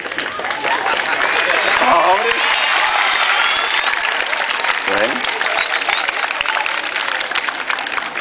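An audience at a secondary school ceremony keeps clapping in a thick, continuous burst of applause, loud and close, with voices and a few shouts rising through the crowd noise.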